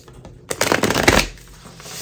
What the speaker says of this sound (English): I'm going to do 3 shuffles and 3 cards for each one